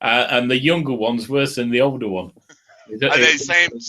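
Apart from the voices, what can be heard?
No distinct noise like a dog, phone or traffic.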